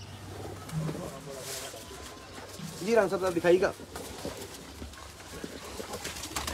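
Taddy pigeons coo in a deep throaty burst at close range with a few softer coos around it, while someone speaks nearby.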